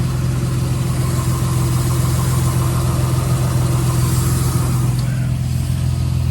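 A Mitsubishi Eclipse project car idles with its engine running after a sealant treatment, a loud, close, even rumble with a steady low hum and faint mechanical ticking, no talk over it.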